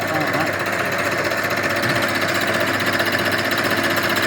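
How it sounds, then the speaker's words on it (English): Loud, continuous machining noise, a steady metallic grinding buzz with rapid rhythmic chatter as a milling machine fly cutter passes over a metal motorcycle triple tree yoke. "Couple of passes with a fly cutter, clean that right up."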